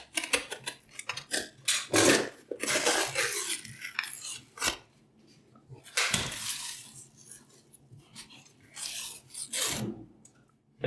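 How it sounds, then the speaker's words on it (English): A knife scrapes and rasps at the strong foil seal on a container of Dymatize ISO100 whey protein isolate, a series of quiet, uneven scratching strokes separated by short pauses, close up with no talking. "You need to take a knife and you need to peel this."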